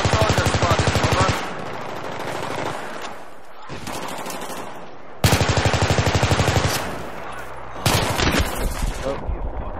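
Loud, close automatic gunfire from Battlefield 3 rattles out in several long rapid bursts, separated by brief gaps.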